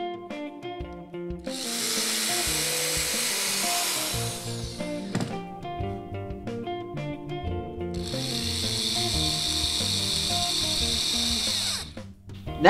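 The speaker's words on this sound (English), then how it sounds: "pre-drill the holes in the front piece to prevent the wood from splitting" Two long bursts of a power drill whining at high speed while pre-drilling holes in wood, separated by a pause, over steady background music.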